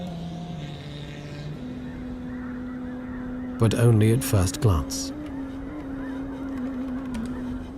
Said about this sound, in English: Migratory birds from the Arctic have arrived to spend the winter here.